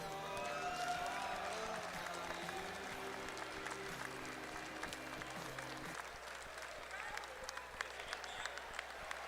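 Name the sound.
audience applause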